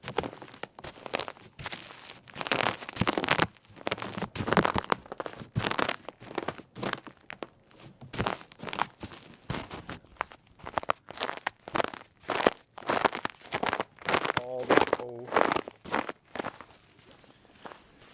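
Footsteps crunching over frozen, icy ground on a bitterly cold day, picked up by a microphone set right on the ground, a long steady series of loud, close, crackling crunches with brief pauses between steps.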